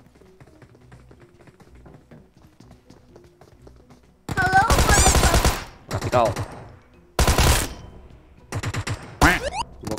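Bursts of automatic gunfire from the shooter game PUBG Mobile come in loud clustered volleys after a quieter stretch of game sounds, with someone talking over the action.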